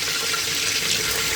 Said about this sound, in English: Now I put water.